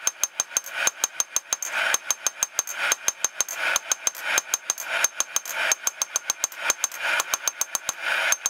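A forging press flattens steel with rapid, steady pounding of roughly four sharp metallic blows a second, over a continuous mechanical hum. The pounding is close and loud throughout.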